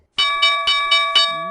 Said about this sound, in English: There is your closing bell, guys.